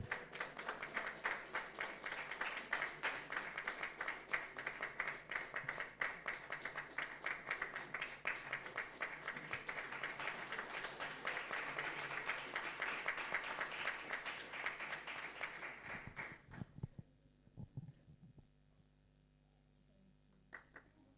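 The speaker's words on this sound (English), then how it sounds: "Would the family come to the stage and we can give a clap, please?" An audience at an ophthalmology conference in Kabgayi claps in a dense, sustained round of applause that lasts about sixteen seconds, heard from a distance, then stops abruptly into near silence.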